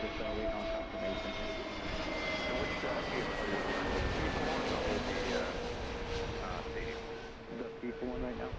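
An airliner arriving at Philadelphia airport, heard from Fort Mifflin, with a steady loud jet engine roar and descending whine that stays constant throughout, close and dominant.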